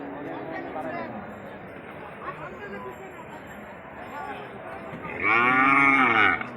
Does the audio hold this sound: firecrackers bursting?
no